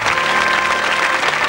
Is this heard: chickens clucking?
no